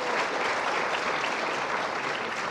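Audience applause at a live UFO debate on Area 51, steady, dense clapping filling the room for the whole stretch at an even level with no talking over it.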